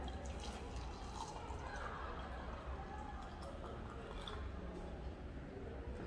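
Hot water pours onto a spoonful of moringa for an infusion, a steady, faint broadband rush of liquid running continuously without pause, close by and without talk.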